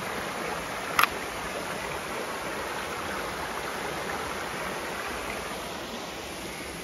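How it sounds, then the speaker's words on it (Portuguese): The Rio do Chuvisqueiro, a clear, low-flowing river below a cascade during a dry spell, gives a steady, even rushing of water close by with one brief sharp click early on. "Esse aqui é o Rio do Chuvisqueiro. Vem lá da cascata com o mesmo nome."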